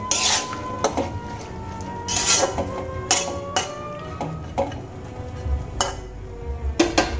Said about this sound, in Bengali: লবণ দিয়ে দেওয়ার পর আমি কিছুক্ষণ ভালো করে নাড়িয়ে নেব।